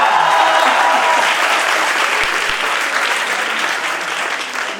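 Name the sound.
audience clapping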